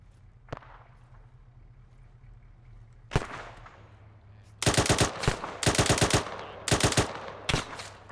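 Bursts of gunfire from the video game Arma 3 crackle in clustered volleys, a couple of isolated shots first, then rapid loud machine-gun strings of several rounds each over the back half, with no talk.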